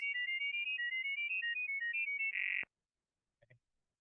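GGWave data-over-sound tones encode the alphabet, a fast run of chirping, hopping electronic beeps that ends in a steadier closing burst. Silence follows, broken only by a faint brief click.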